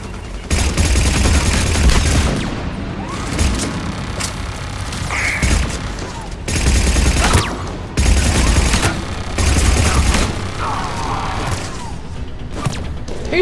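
Turret fire in Mass Effect 3 on Eden Prime: sustained loud rapid gunfire bursts, close and heavy, broken by short pauses between volleys, with thuds and impacts mixed in.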